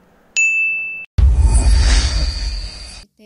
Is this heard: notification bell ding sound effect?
yes